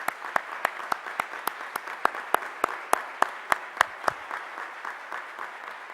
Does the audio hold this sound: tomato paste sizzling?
no